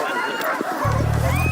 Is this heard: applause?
no